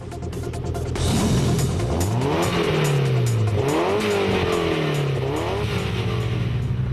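A car engine with a loud, raspy modified silencer exhaust revs up and down repeatedly, the pitch climbing and falling, steady and close throughout.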